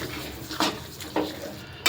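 A spoon stirs a thick Gundar Paak jaggery mixture in a pan with the flame off, giving soft scraping with a few louder strokes against the metal, close and alone.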